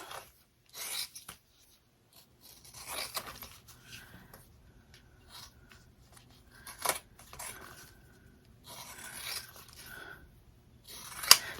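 Fabric scissors snip around the edge of a hexagon zipper bag in short, quiet bursts of crisp cutting, separated by pauses and small handling rubs, fairly close and with no voice.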